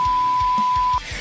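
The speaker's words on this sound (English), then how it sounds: "It beeps every time I swear." A sustained, loud, steady censor beep masking swearing, lasting about a second with low rhythmic thumps beneath it, then cutting off.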